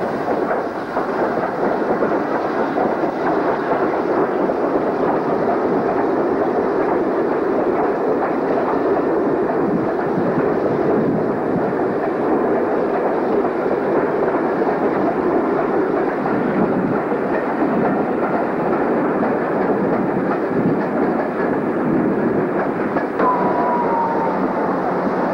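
Britannia steam locomotive No. 70004 hauls a special train at Birmingham Snow Hill station with a steady, heavy rumble and rhythmic chuffing, continuous throughout with faint clanks and no talking.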